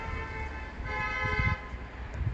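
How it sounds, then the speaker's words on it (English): Car horns honk in a short burst amid the low rumble of nearby traffic on a Stockholm city street. "Everybody honking. Everybody left and right."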